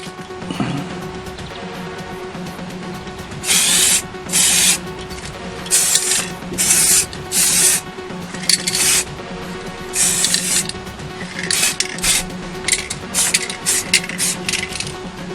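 Racing green spray paint goes on hair clippers as a second coat in a series of short, loud hissing bursts, each a second or so long with pauses between, over a faint steady hum.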